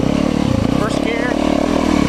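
An enduro motorcycle pulls along in first gear with a loud, close, pulsing engine drone that runs throughout, while a person talks over it.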